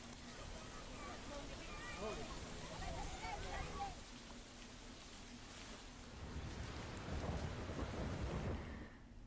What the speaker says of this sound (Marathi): कल्याणमध्ये गेल्या काही दिवसांपासून मुसळधार पाऊस सुरू आहे